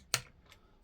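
Torque wrench clicking on bolts during a Reliant 850 rebuild, two or three short, sharp faint clicks spaced apart in a quiet workshop.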